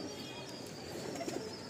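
Loft pigeons give soft, faint coos against a quiet, steady background, with a couple of low murmurs near the end and no talking.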